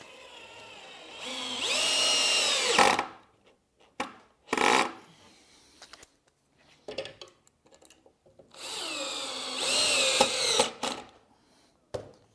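A power drill drives screws into the leg of a wooden planter bench, with two long, loud whirring runs separated by shorter bursts, quiet gaps and scraping handling noise close by.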